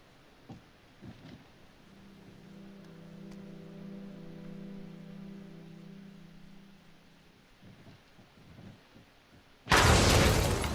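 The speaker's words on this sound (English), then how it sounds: "Why are there so many explosions?" Explosions in the video game Hidden Agenda arrive as one sudden, loud, broad blast near the end, after a long, quieter stretch of low, steady humming tone and faint background noise.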